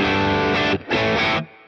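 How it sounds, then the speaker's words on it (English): An electric guitar runs through reverb with pre-delay, giving two loud, distorted sustained chords separated by a brief gap, then a sudden cutoff leaving a faint tail. "we get this delay before the reverb kicks in"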